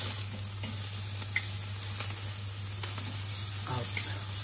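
Côte de bœuf just flipped on a barbecue grill sizzles with a soft, even crackle and a few small pops, faint and close, over a low steady hum.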